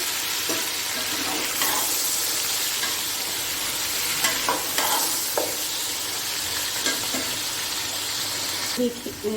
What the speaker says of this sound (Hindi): और इसको अच्छी तरह भूनना है ताकि इसका जो कलर है वो सफ़ेद हो जाए